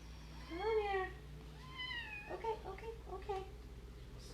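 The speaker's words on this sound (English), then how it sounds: "I will be working with my kittens" Kittens meowing close by, several rising and falling cries in a row with a quiet room hum beneath and a voice in between.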